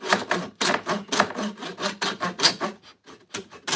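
A Bosch corded sander working wood on a large project, rasping in repeated rhythmic strokes, close and loud, with a few short gaps between passes.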